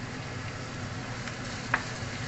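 Onions frying in a hot pan with beef, a low steady sizzle with one brief clink partway through, close and quiet, no voices.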